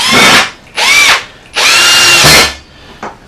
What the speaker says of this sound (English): So hopefully now we can put these last 4 screws in,